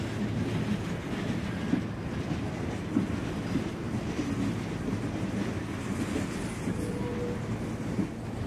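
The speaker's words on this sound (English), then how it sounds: "Long train, still going by." Long train passing a crossing near the Chesapeake and Ohio Canal park, a steady low rumble of wheels and cars with faint clicking, continuous throughout and moderately close, no voices.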